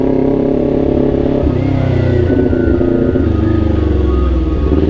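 Loud Kawasaki Ninja 400 motorcycle exhaust close up, revving in neutral up and down in quick throttle blips over a rumbling idle, with no talking.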